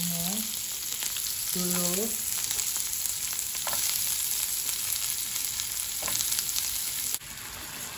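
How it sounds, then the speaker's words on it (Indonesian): Onions sizzle in a hot pan with a continuous close crackle, joined early on by a couple of brief tonal chirps and a short spoken word, then an abrupt drop in level near the end. "ini sekarang aku mau masak bawang bombaynya"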